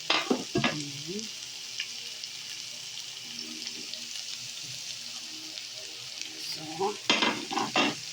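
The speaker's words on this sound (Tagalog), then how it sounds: "Ilagay na natin yung ampalaya para makaluto na." Sliced bitter gourd (ampalaya) sizzles steadily in a hot pan for sautéing with egg, with a few scraping stirs at the start and end and a brief spoken word.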